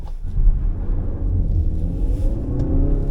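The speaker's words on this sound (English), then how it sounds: "just spun the hell out of the wheels" A Cupra Formentor in hybrid mode launches hard from a standstill and spins its wheels. The engine and motor roar builds to a rumbling rev with a rising whine, close and continuous, with no voices.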